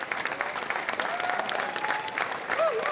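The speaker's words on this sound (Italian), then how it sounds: "Oh, ci piacciono questi applausi, fateceli sentire." Steady crowd applause fills an open-air square, Piazza Manzoni in Jesolo, a dense sustained patter of many hands with a voice briefly rising over it near the end.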